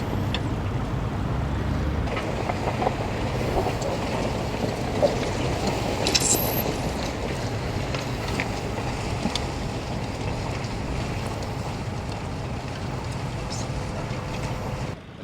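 A New Holland tractor pulling a Kverneland 5-furrow plough at a ploughing match, heard as a steady low engine drone with wind buffeting the microphone outdoors, continuous and moderately distant.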